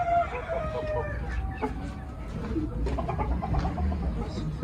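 Ayam Cemani chickens clucking with a rooster crowing at the start, nearby in a poultry farm pen, with scattered clucks and calls overlapping throughout.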